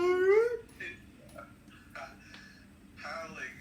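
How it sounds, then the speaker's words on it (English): A dog howls in a workshop during violin varnishing, with one rising, sustained howl up front and shorter whimpering cries following amid quiet background noise. "Howling. He has existential angst, you know."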